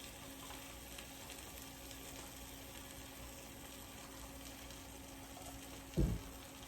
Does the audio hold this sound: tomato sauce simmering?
yes